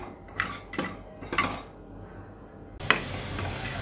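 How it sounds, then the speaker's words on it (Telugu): Dry coconut, cashews, roasted gram and raisins frying lightly in oil and ghee in a pan, a quiet sizzle broken by a few sharp spatula stirs and scrapes against the metal. "దీనిలో ఎండు కొబ్బరి, జీడిపప్పు, పుచ్చపప్పు, కిస్మిస్ ఇవి కొంచెం లైట్గా ఫ్రై చేసుకోవాలి."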